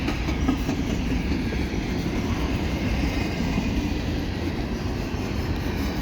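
Eastbound CPKC freight train hauled by Canadian Pacific and Kansas City Southern locomotives rolls past near Montreal, a loud, steady rumble of wheels and cars with continuous clatter, close by and alone without voices.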